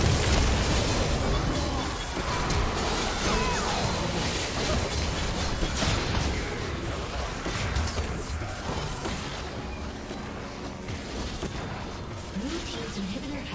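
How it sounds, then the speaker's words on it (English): Dense, continuous explosions and crashing impacts in a League of Legends match as a turret is destroyed, loud and sustained amid chaotic battle noise. "Blue team's turret has been destroyed."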